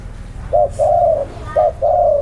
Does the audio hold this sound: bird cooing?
yes